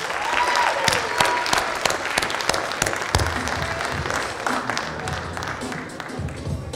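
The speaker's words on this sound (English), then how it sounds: "Big round of applause for them." A school audience gives a big round of applause to first graders at an elementary community ceremony, loud crowded clapping that begins strongly and gradually thins out, with some murmured voices underneath.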